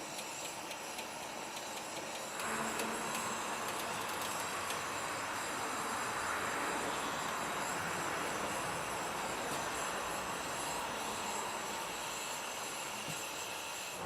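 A torch flame heating a seized lawn tractor wheel until red hot: a steady roaring hiss that starts abruptly after about two seconds and continues evenly, close and moderately loud.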